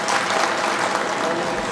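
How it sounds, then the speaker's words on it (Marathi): A large crowd, many of them women, applauds at a political rally, a dense and continuous wash of clapping with faint voices mixed in. "एकदा तुमच्यासाठी टाळ्या वाजवा"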